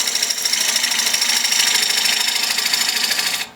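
Bowl gouge cutting wood on a lathe, a steady rapid chattering rasp as the spinning blank throws big curls of shavings, close and continuous until it stops at the end.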